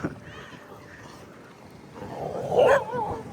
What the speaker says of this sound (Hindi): बट यहाँ पे ये खड़ा है दूसरी गली का, इसके लिए इसको भौंक रहे हैं।